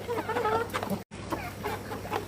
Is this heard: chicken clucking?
yes